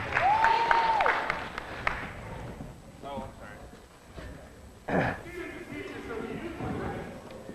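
Audience at a live medieval sword fight demonstration with sword and buckler, cheering and clapping loudly at first, a brief renewed burst of noise midway, then quieter crowd murmur and talk.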